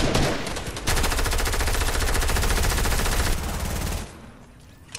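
Rapid automatic gunfire in a video game rattles loud and close in one sustained burst of about three seconds, then cuts off into quieter game noise.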